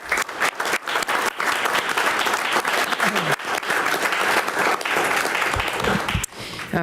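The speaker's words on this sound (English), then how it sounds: "let's give them a round of applause for what they're doing" A round of applause from attendees at a city commission meeting, choppy and uneven clapping with audible individual hand claps, close and moderately loud throughout, without talking.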